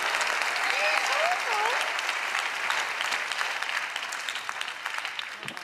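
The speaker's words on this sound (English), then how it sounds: "Don't applaud me." Audience applause at a live magic show taping, a dense steady clatter of many hands clapping that fills the whole stretch and eases slightly toward the end, with a voice briefly heard over it.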